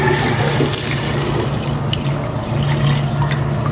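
Water pours steadily and loudly into a cooking pot holding cracked pepper, a pork cube and salt, a continuous close gushing splash that lasts throughout.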